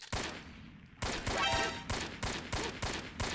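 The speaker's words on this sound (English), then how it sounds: "Except I'm not really firing like crazy because I'm not on burst fire. I'm on single shot." Single-shot gunfire from Metal Gear Solid 3 HD Edition on the Vita: a steady string of about nine sharp, loud shots at a quick, fairly even pace, with no talking.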